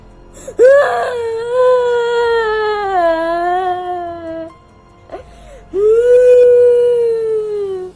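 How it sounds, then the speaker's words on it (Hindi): A woman wails and sobs loudly up close in a forest, two long drawn-out moaning cries with a short gasp between them; cartoon sound. "तभी उसे किसी की रोने की आवाज आती है"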